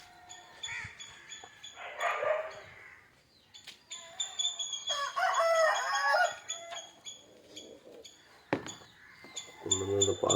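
Country chickens cluck and a rooster crows in a rural yard, calls coming intermittently at moderate distance, with a dog barking faintly and quiet background noise between.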